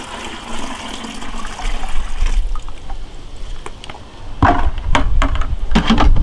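Water that sat out overnight is poured into a 3-gallon bucket for a worm tea brewer, a loud, continuous rushing gush close by, turning choppier with splashes toward the end.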